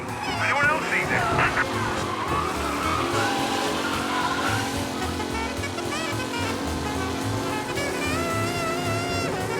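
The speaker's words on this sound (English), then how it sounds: "Officers reporting a race car driving at speed through the city." A race car in the 1930s-era game Mafia speeding through city streets, with a loud, continuous engine roar and squealing tires close by throughout, under steady overlapping game audio.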